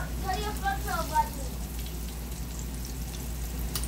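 Flour-dredged chicken wings sizzle in a pan on medium heat, a continuous near hiss and crackle, with a voice speaking briefly at the start before the frying carries on alone.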